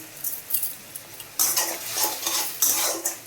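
Masala for vegetarian tomato rice being stirred in a pan, with a utensil scraping and clinking against the metal in short bursts over a faint sizzle, louder and busier in the second half, no voices.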